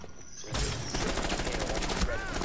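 Rapid bursts of video game gunfire crackle loudly and almost continuously, dense overlapping shots filling the scene after a brief quieter start, with excited voices shouting over the action.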